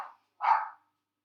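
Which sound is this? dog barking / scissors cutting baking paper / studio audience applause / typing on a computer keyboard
dog barking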